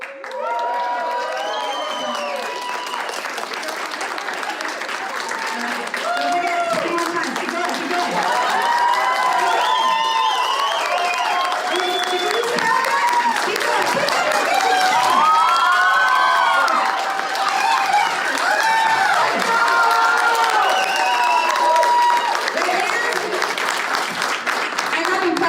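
A large crowd at a Twenty One Pilots press conference in Houston claps and cheers loudly for over twenty seconds, with shrill shouts and whoops rising above dense, continuous applause.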